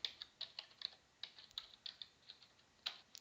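A Stata command being typed on a computer keyboard: about a dozen quiet, close keystroke clicks in an uneven rhythm over three seconds, with no voices.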